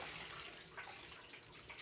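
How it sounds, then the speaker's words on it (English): Tank prep acid pours into a 1979 Honda CB400T motorcycle fuel tank, a continuous hissing splash of liquid filling metal, steady and close for under two seconds. "We have got the acid poured into the tank"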